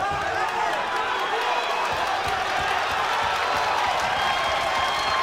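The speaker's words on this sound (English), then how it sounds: "The crowd willing the Dominican fighter on here." Dense, steady roar of a crowd cheering on a fighter at a karate bout, continuous and fairly distant-sounding, with a commentator's voice woven through it.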